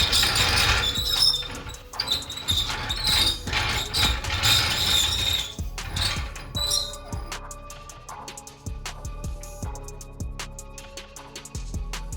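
Spare tire winch under a Chevy Colorado pickup being cranked back up, giving a dense run of ratcheting, clicking mechanism sounds that turn into sparse sharp clicks and clanks, close and fairly loud.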